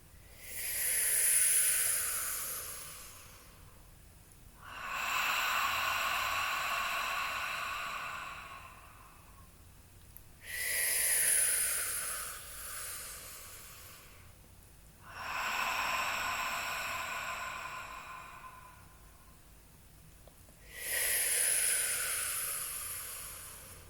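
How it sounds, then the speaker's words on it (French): Slow, deep belly breathing, close and audible, with long airy inhales and exhales in about five unhurried cycles and no talking over it. "Faisons quelques respirations ensemble."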